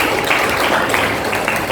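A class of students claps together in a classroom. The applause is brief, steady and dense, filling the room at a loud, even level the whole time.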